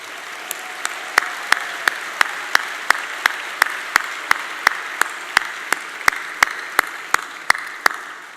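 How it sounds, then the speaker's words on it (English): Applause at an award dinner for rising stars, heard as a soft wash of clapping with sharp, evenly spaced loud claps repeating about three times a second, likely a single person clapping close by. "get ready to applaud again for our award winners"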